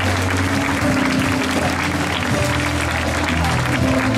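Sustained crowd applause for the winning cyclist at the 55th Coppa d'Oro, a youth road race in Italy, steady and loud throughout with faint talk mixed in.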